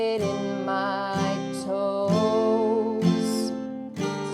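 Acoustic guitar rings out with paired down strums on each chord of a song, about four strong, evenly spaced strums, each left to sustain, clear and close with no voices.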